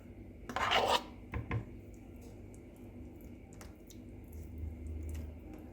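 A spoon scrapes tomato paste across homemade chicken pizza dough in one short rasping stroke, then a couple of softer scrapes and light handling noises in a quiet kitchen.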